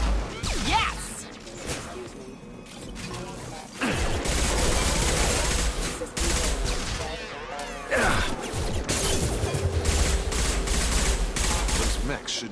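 Gunfire aimed at hostile mechs in Mass Effect, with bursts of shots, crashes and impacts, loud and close. Voices talk over the shooting.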